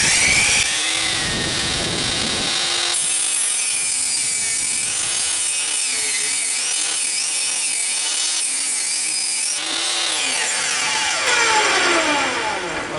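A table saw rips lengthwise through a wooden board for a trailer tailgate outdoors, a loud continuous whining buzz with shifting pitch as the blade bites, ending as the cut finishes amid wind noise.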